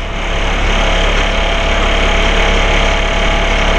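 A boat engine at a dock runs steadily under throttle while reversing, a loud, close, constant low rumble with even vibration and no talk.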